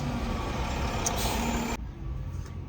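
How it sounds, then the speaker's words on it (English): A garbage truck engine rumbles at a steady, moderate level, with a brief hiss partway through before the sound abruptly drops and thins as the truck pulls away. No one speaks. "garbage truck is gone"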